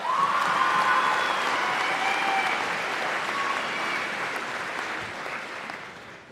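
A large audience at a high school graduation ceremony claps in a sustained round that stays loud and dense, then slowly fades toward the end.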